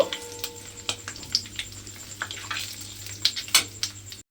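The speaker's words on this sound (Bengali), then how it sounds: "শুকনো লঙ্কার 5 ফোড়নটা দিয়ে আমি একটু ভাজা ভাজা মতো করে নিয়েছি" Dried chillies and five-spice crackle and sizzle in hot oil with scattered pops and light clinks of a utensil against the pan, close by.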